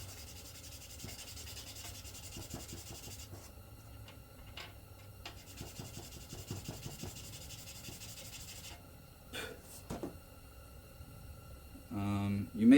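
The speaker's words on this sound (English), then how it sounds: "take our 600 grit sandpaper, and again our flat surface, and we're just going to sand it down just a tiny bit" Fine 600-grit sandpaper rubbing a car shifter part on a flat surface, giving soft, close scratchy strokes in an uneven rhythm, quiet and dry, with a louder clatter right at the end.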